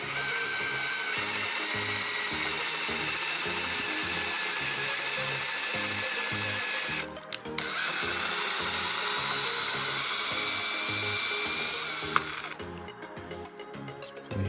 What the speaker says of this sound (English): It's a bit trickier to get it going when you put the bigger drill bit in.